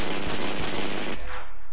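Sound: sniper gunfire in Flee the Complex video game

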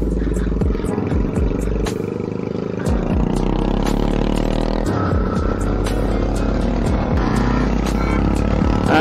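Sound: Bajaj Pulsar 220 motorcycle exhaust

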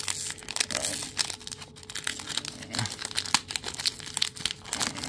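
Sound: tearing open a trading card pack wrapper

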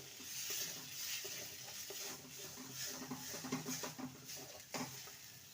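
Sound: stirring green peas in a pan

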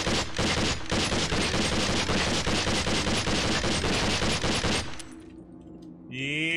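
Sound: M4 rifle fired on full auto in the video game SWAT 4

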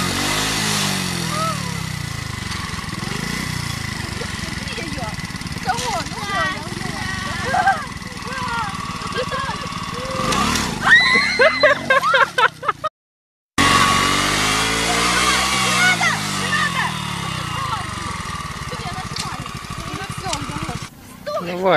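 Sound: motorcycle engine being started

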